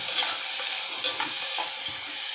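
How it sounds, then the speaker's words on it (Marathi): Moong and vegetable curry with potato and tomato stirred in a hot pan, a continuous sizzle with scraping strokes and a few sharp clinks of the spoon. "आता हे व्यवस्थित डवळून वाफेवर ठेवलं जाईल"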